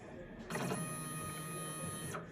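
A direct-to-film printer's print head travels back to its home position and caps with a steady mechanical whir lasting about two seconds, starting and stopping abruptly.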